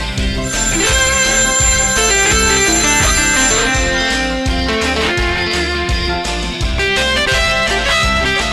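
A telephone rings inside a loud, dense rock-and-roll song, its repeated ringing tones blended with full-band music that continues throughout.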